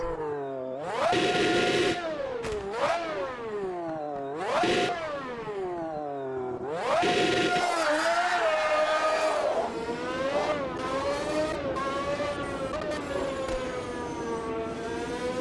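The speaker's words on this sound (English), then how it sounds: "sounds very high-pitched V12, doesn't it?" A V12 Formula 1 car engine in the Automobilista 2 racing game, revving in sharp high-pitched bursts that rise and fall several times before settling into a sustained shrieking drone through gear changes, loud and alone.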